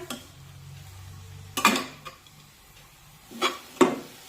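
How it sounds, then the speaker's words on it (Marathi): A spatula scrapes and knocks in a pan while fenugreek (methi) greens are stir-fried, with a few sharp clanks spaced apart over a quiet, low background. "तर 2 ते 3 मिनिटे ही भाजी आपण परतून घेऊया।"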